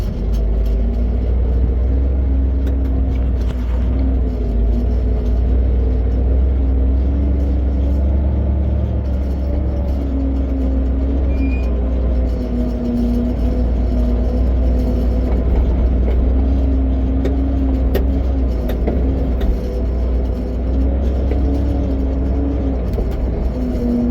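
A 1967 Chevy C40 truck engine rumbles steadily and loudly from inside the cab while a load is dropped, a deep continuous drone with a slowly shifting hum and no talking.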